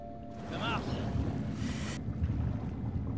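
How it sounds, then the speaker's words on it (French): A boat engine restarts in The Last of Us Part II video game. A steady low rumble churns throughout, with a short airy hiss partway through and a brief muffled voice near the start. "C'est bon, le moteur est reparti."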